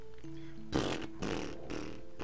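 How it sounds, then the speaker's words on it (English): A fart sound effect with heavy reverb plays over a voice call: a low, moderately loud blast followed by a couple of shorter echoing repeats. "I thought for sure the fart reverb would work."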